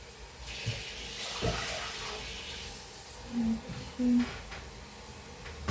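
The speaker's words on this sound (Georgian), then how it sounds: "ეხლა ამას დავამატოთ ორჭიქა ნახევარი" Water is poured into a pot for cooking doshirak instant noodles, a faint hissing splash with a few louder gurgles near the end.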